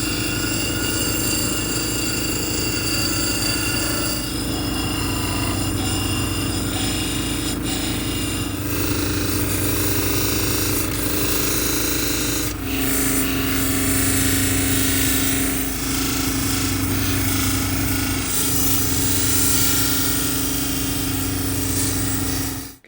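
A labradorite stone is domed against a spinning lapidary grinding wheel, giving a continuous motor whine with shifting grinding rasp as the stone is pressed and moved, loud and close throughout with no speech.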